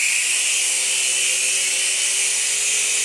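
Sky Rover KnightForce radio-control toy helicopter spinning up, a steady, close, high-pitched electric whine with a faint motor hum beneath, holding level without pauses.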